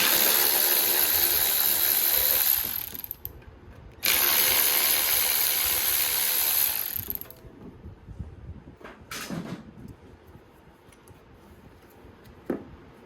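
A power tool whirs loudly in two long bursts while the 3/8 intake bolts are backed out of the blown motor on a Toro Z420 Timecutter mower, followed by quieter metallic clicks and handling.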